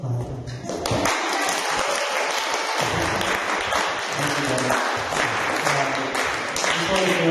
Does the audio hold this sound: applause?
yes